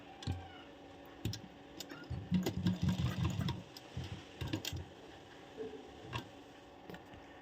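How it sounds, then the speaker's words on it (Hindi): A sewing machine runs in short bursts while stitching lace along a blouse neckline, a quick rattling, ticking patter that starts and stops, fairly quiet and near. "सिर्फ उसी लेस पे हम सिलाई लगा रहे हैं"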